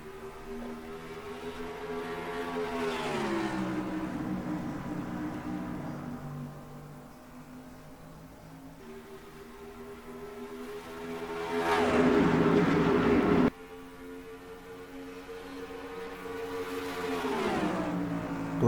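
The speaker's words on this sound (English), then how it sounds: "we are green flag racing for the Rush Truck Center's 500 at Texas" Race trucks in the NR2003 racing game leaving the green flag at Texas Motor Speedway: a steady droning engine roar that swells as the pack accelerates, rising and falling in pitch as trucks pass, with no talking.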